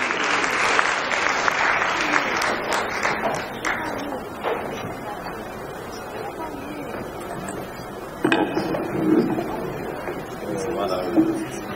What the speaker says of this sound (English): Can we please give him a round of applause as he comes?